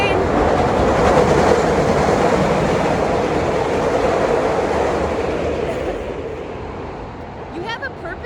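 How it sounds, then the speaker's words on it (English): A train passes close by on the rails with a loud, continuous rumble and rhythmic wheel clatter that slowly fades, followed by a few faint high squeals near the end. "The train."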